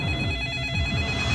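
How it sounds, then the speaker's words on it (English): A telephone rings in a horror movie trailer, a continuous bright electronic trill held throughout at moderate loudness over a low rumbling background. "In every horror movie, there is a phone waiting to ring."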